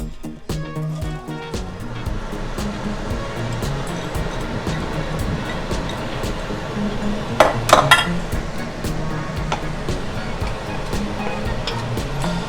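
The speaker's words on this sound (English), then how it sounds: "I'm gonna put my onions in." Chopped onions tumble into a hot pot for turkey chili, giving a steady, loud rush of sizzle and clinking of a utensil against metal, with a brief burst of sharper clatter partway through and no talking.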